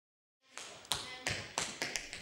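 Tap shoes strike a hard floor in about six crisp, close taps, spaced unevenly in a quick dance rhythm after a moment of silence.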